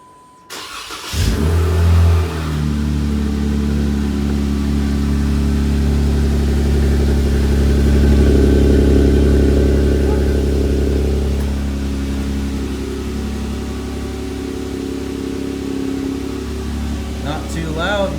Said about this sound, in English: All right, guys, here goes the cold start.